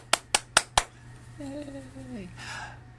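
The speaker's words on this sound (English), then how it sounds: "Please clap your hands." Four crisp, evenly spaced hand claps, close and alone, followed by a faint hum and a short sung or spoken voice in a children's song setting.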